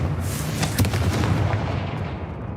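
Confringo explosive spell cast in Hogwarts Legacy, a loud dense blast with crackling bursts that rumbles on for a couple of seconds, no voices over it.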